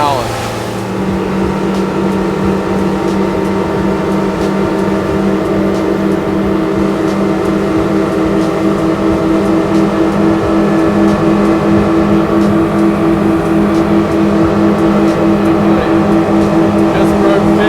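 A 2025 Robalo 257 boat's outboard engine holds steady just under 3,500 RPM, a loud continuous drone with even harmonic hum and water rush throughout, with speech over it.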